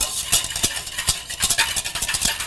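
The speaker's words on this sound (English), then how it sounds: "and you just whisk it" A lemon juice dressing is whisked briskly in a serving bowl, making fast, uneven clicks and swishes of the whisk against the bowl, loud and close, with no speech.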